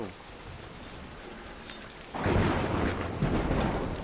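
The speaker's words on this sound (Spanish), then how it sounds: "lluvia llena de tormentas, acá con relámpagos" Thunderstorm in a Tomb Raider video game, steady rain hiss that swells into a sudden heavy roll of thunder and louder downpour, close and alone without talk.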